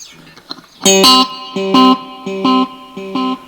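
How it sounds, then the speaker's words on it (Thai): A digital delay pedal set to emulate tape echo repeats a short distorted instrument phrase, each echo warm and bass-heavy with a slightly gritty, dirty tail. The repeats arrive in an even rhythm, loud and close. "เอฟเฟกต์ล็อกเขาทำเรียนแบบ Echo Tape เวลาเสียงตามมามันจะทุ้มๆ แล้วจะมีปลายเสียงสกปรกนิดๆ"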